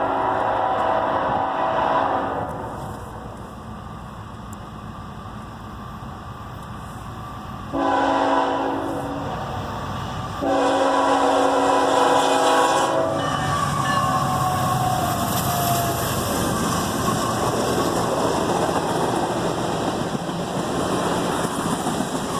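A CSX freight train led by a GE Tier 4 ET44AH locomotive rumbles past, with long loud horn blasts in the first half giving way to the steady grinding roar of passing freight cars.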